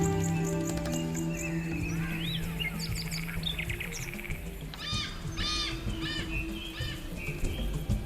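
Birds chirp and call in a Western Ghats rainforest, several distinct tweeting phrases rising over a steady background hum, moderately loud and growing busier in the second half.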